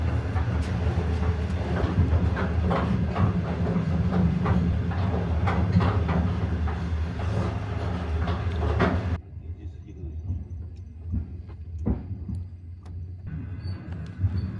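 Sleeper train K7039 rolls along the rails near Mohe Station, with rhythmic clattering and a heavy rumble that drops abruptly to a quieter hum partway through, with a few isolated clicks after.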